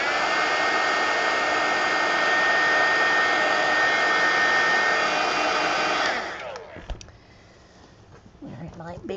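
A hair dryer blows a loud, constant whir to dry paint on a mixed media collage card, running steadily for about six seconds before switching off, leaving faint handling noises.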